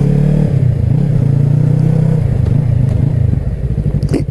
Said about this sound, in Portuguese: Até pipoco no escapamento